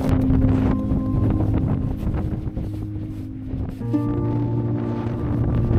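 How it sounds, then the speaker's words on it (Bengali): Strong wind during a snowstorm on Mount Hotham buffets the microphone in loud, continuous gusts, with some faint humming tones underneath and no talking. "বাতাসের স্নো গুলো মুখের উপর এত জোরে পড়তেছে, ব্যথা লাগতেছে মুখে প্রচুর।"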